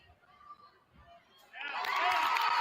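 A high school basketball gym crowd starts as a quiet murmur, then halfway through bursts into loud, sustained cheering and shouting.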